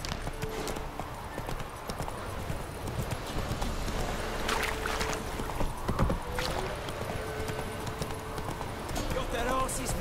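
Rhythmic hoofbeats of a horse in The Witcher 3 video game, steady clip-clop running under a voice talking over the gameplay.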